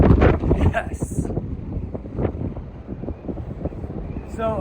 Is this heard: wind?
yes